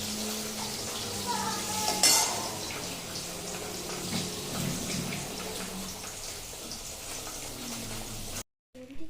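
Brinjal pieces frying in leftover fish oil in a home kitchen, a steady sizzle with pan and utensil clatter and a faint voice in the background, cutting off abruptly near the end.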